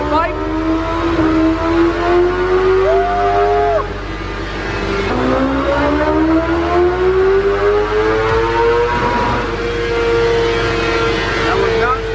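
A 2020 BMW S1000RR motorcycle engine screams on a dyno during warm-up, its loud wailing pitch climbing through repeated high revs and dipping between pulls.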